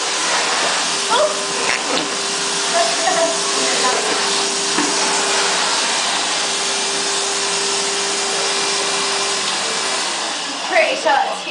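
A vacuum cleaner runs steadily and loudly at close range in a living room, its continuous whirring drone with a faint tonal hum persisting throughout, with brief bumps and rustles near the end.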